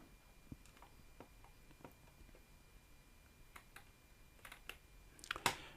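Quiet computer keyboard typing with scattered light key taps, ending in a quicker cluster of clicks and one sharper click while entering a verification code to log in to Elementor on WordPress.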